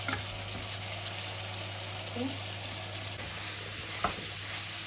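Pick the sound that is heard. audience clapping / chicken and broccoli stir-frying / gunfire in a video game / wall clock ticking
chicken and broccoli stir-frying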